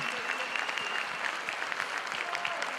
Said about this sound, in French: je vous demande d'applaudir, mesdames, messieurs, l'organisation du TGS